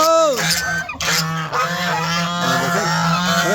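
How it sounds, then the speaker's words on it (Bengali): Geese honk loudly and close by in a run of repeated, overlapping calls, among poultry being gathered into their shed in the late afternoon. "চলুন একটু রাজহাঁস শব্দ পাই দোস্ত"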